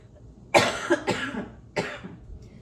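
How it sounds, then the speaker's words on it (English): Three harsh coughs in quick succession, close and fairly loud, with a short pause before the last. "sorry for all the coughing"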